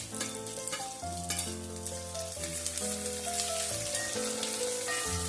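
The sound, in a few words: sautéing garlic, green chillies and ginger in a pan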